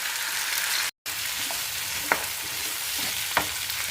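Onion, tomato, green chilli, garlic and ginger sauté in a pan for green peas kurma with a loud, constant hiss of frying, marked by a couple of light spatula taps and one brief dropout.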